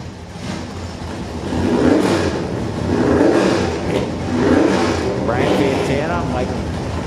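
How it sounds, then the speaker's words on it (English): Race cars at a track event, with Nova wagons and a Falcon among them, rev and pass in repeated swelling waves of mid-pitched engine noise. Several cars go by in turn while a voice talks over the engines. "So, big cars making their way down the racetrack."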